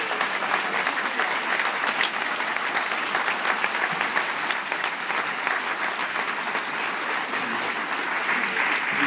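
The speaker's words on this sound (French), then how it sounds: "Merci de l'applaudir." Conference audience at an autism congress giving sustained applause after a talk, many hands clapping in an even, dense wash that stays loud and steady throughout, with no one speaking.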